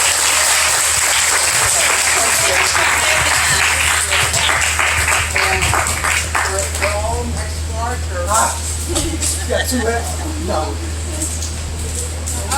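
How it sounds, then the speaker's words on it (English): Sustained applause from an audience at a homelessness panel event, dense and loud throughout, with a steady low hum beneath and some scattered voices as the clapping thins toward the end. "Can everyone give one more round of applause?"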